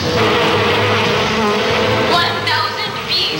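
A dense swarm of bees buzzes loudly and continuously up close, with wavering pitch as individual insects pass near.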